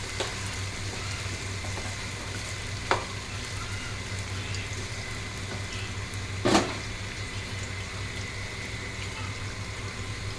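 Chicken pieces frying in a pan for pickle, giving a steady, continuous sizzle with a low hum beneath and a couple of brief clatters from stirring.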